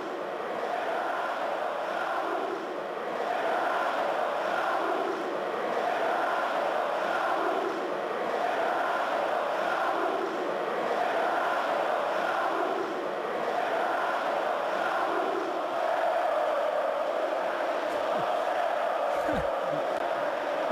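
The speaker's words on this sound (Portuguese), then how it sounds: "A torcida do Fluminense cantou pro Renato Gaúcho." Fluminense supporters chanting in a football stadium for Renato Gaúcho, a steady massed singing rolling on at a distance for the whole stretch, with no talk over it.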